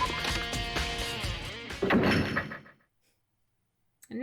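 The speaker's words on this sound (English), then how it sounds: "As soon as the door to the data center was closed, I heard a strange sound." A door closing in the Danganronpa: Trigger Happy Havoc video game, with a heavy thunk and rumbling slide over game sound that fades to silence, followed by a short sharp click at the end.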